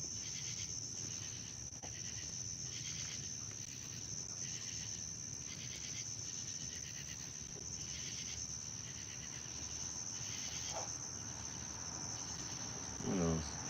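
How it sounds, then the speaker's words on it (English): Crickets chirp in a steady, high, shrill trill that runs unbroken through a quiet night, joined by faint scattered rustles and a brief louder knock near the end. "hopefully another cricket come, man. Hopefully the next cricket's bigger."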